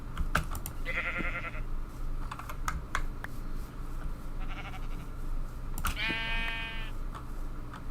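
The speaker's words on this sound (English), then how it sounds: "These sheep are just calling to me, guys." Minecraft sheep bleat a few times, wavering digital calls spaced apart, over the steady clatter of computer keyboard typing.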